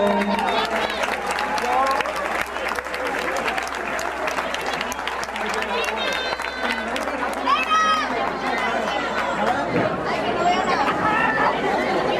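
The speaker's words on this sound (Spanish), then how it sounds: "También un fuerte aplauso." An audience applauds steadily at a live event, a continuous wash of clapping mixed with crowd chatter and babble, with a low hum underneath and occasional bright whistles or cheers.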